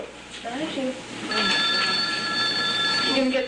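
A telephone bell rings with a steady trilling tone through most of the clip while people talk over it indoors.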